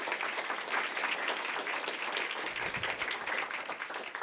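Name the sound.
audience applause after a NASA briefing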